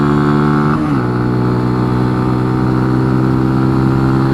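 A Benelli TNT 135 motorcycle engine humming steadily while riding, loud and close, with a brief dip in pitch early on before settling into an even drone.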